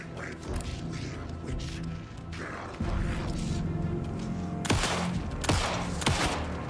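Gunfire in Alan Wake 2, a mix of quick cracks over low ambient game rumble, with several sharp loud shots standing out near the end, no talking.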